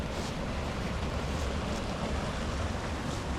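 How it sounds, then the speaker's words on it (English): Water draining out of a pond at a wilderness campsite, heard as a steady, broad rushing wash that never lets up, fairly loud and close and blended with some wind, with no voices. "So there's a drain on this pond. This is pretty cool. You can see it draining out."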